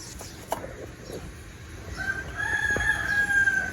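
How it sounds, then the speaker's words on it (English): A rooster crows outdoors around midday, one drawn-out call rising in the second half over low ambient background noise. "That is one lazy rooster."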